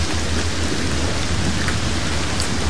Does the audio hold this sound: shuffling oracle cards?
no